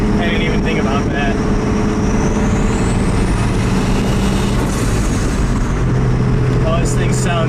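Boosted Dodge Dakota pickup on its new turbo exhaust, a loud steady engine drone with heavy low rumble and wind roar throughout, rising whistle-like tone in the middle, a voice briefly underneath.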